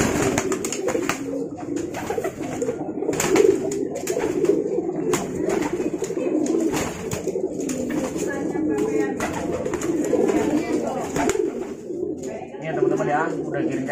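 A male pigeon coos in courtship display, soft repeated throaty coos heard close under frequent overlapping talk from a man, with some handling noise and clicks.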